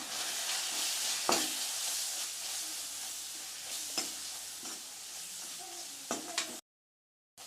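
Spices with hot chili powder sizzle steadily in a pan while being stirred for a Tamil wedding-style potato masala, with a few sharper scrapes and clinks of the spoon, then a sudden cut to silence.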